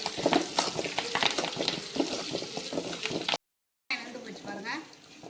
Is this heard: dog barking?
no